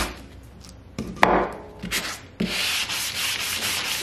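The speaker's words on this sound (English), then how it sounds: "I'm just gonna take my sanding block around the edges" A sanding block scrapes along the edges of a stacked wooden book craft piece, giving several abrasive rubbing strokes with a sharp knock near the middle, then a longer, steady grinding pass, close and fairly quiet.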